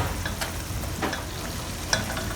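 Herbal chicken braising in yellow wine is stirred in a pan, a close, low bubbling and simmering hiss with a few brief scraping strokes from the utensil and no voices.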